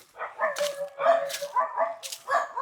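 A dog barks and yips in short bursts over a couple of seconds, fairly close, outdoors on a rocky hill trail, with light background sound and no clear talk.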